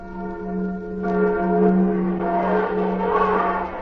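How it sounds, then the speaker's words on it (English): Liberty Bell rung by pulling its rope during a ceremony, giving a sustained, steady metallic hum with layered ringing tones that swell slightly partway through. "Red Cadiddlehopper will now pull the rope and ring it for us"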